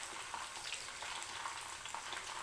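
Pieces of fish frying in a pan of oil, set side by side rather than stacked, giving a soft, steady sizzle with faint crackles throughout, quiet and close, with no voices.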